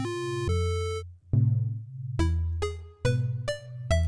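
Synthesizer plucked tones from a Modern Pluck Basic Pluck preset play a short stepping melody of bright, bell-like notes, each with a quick attack and ringing decay, clear and upfront with no voices.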